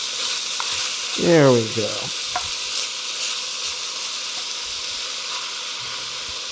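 Stuffed pepper filling browning in a pan, giving a steady close hissing sizzle throughout, with a brief voice speaking partway in.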